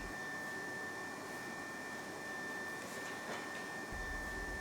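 A hot air welder blowing a steady, loud, hissing roar while a vertical pool liner seam is welded, with a thin constant whine on top and a low rumble coming in near the end.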